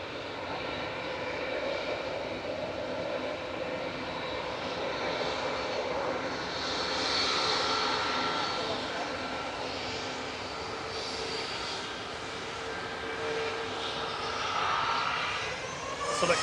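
SunExpress jet airliner accelerating on its takeoff roll at Manchester Airport, a steady, broad engine roar that swells gradually and holds loud throughout, with no voices.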